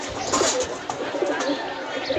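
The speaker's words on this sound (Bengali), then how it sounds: "এখানে 15টার মতন কবুতর আছে এই চাকলার মাঝে।" Pigeons coo steadily inside a pigeon loft holding around fifteen birds, with soft overlapping calls and a little faint talk in the background.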